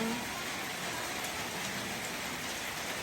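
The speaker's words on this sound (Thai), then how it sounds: "บ่เห็นฟ้าเห็นหมอกเลยฝนตกตลอดฝนตกลินอยู่ทั้งที่ล่ะ" Steady rain falls continuously at a home in the countryside, a dense, even hiss of drops on surfaces with no breaks and no voices.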